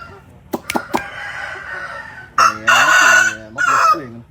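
A Vietnamese fighting rooster, a gà que weighing about 3 kg, gives a loud close crow in two strong bursts after a few sharp clucks, with no other sound.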